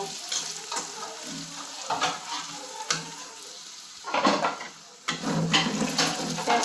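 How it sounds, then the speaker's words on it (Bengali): Onions frying in oil in a pan, crackling and sizzling up close while a utensil scrapes and stirs in repeated bursts, with a louder surge of sizzle near the end. "পেঁয়াজটা লাল লাল হয়ে ভেজে উঠলে তারপরে আমরা মরিচ দিয়ে মিশাই নেব"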